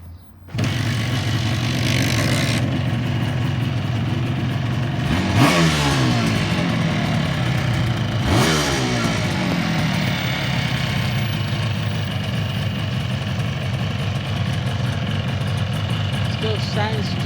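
A Suzuki X7 two-stroke motorcycle, freshly restored to concours standard, fires up after a kick and runs loud and close, blipping the throttle in two sharp revs before settling into a steady, slightly uneven idle.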